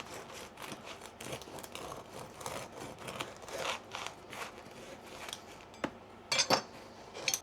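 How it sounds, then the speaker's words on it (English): A knife saws through a loaf of fluffy, soft bread in a home kitchen, making a series of fairly quiet, rhythmic scraping strokes, then a few sharper clinks near the end. "I'm just gonna cut some bread right now."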